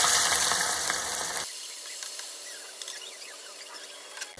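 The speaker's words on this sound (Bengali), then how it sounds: "এই রকম এক মুঠো করে আলু ঝুড়ি আমি তেলের মধ্যে ছেড়ে দেব" Handfuls of shredded potato dropped into hot oil on low to medium heat, a loud bubbling sizzle at first that suddenly drops to a quieter, crackling fry with small pops.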